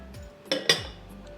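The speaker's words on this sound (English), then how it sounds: "So I'm gonna put the almond flour in and the powdered sugar." Almond flour and powdered sugar going into a mixing bowl for French macarons: two sharp, close clinks of a utensil against the bowl over a faint background hiss.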